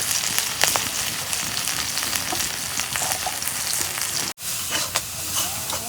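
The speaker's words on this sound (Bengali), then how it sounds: "তেল দিয়ে মশলাগুলো কষে নেই" Spices, onion and green chili frying in hot oil with salt, turmeric and dried chili, a steady close sizzle and crackle with occasional stirring, briefly cut off near the end before resuming.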